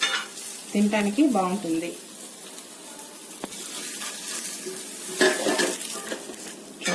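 Onion pesarattu, a lentil crepe, sizzles steadily on a hot pan while a utensil scrapes and clinks against the metal. A voice speaks briefly near the start over the cooking noise.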